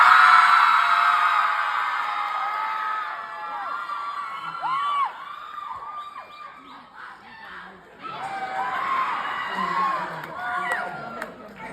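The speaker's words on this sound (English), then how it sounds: "I would like to hear all the girls give a Beatles scream" A crowd of girls at a festival interview lets out a long, shrill, high-pitched scream, peaking loud at first, dipping to scattered whoops, then swelling again into a second wave of shrieking.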